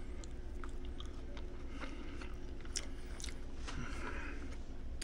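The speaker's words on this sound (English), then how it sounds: "Y'all heard a little crispy edge crunch?" Someone bites the crispy edge of a pumpkin spice pancake made from a Great Value mix, producing faint, close chewing crunches and small crackles over a quiet steady background hum.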